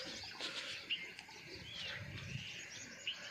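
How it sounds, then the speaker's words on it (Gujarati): Pigeons perched in a line on a wire on a hazy rural morning, faint cooing and a few brief chirps over a soft open-air background hiss, distant and quiet. "અને પક્ષીનો અવાજ સાંભળો। જોવામાં તાર ઉપર જોઈ લ્યો લાઈનમાં કબૂતર બેઠા છે।"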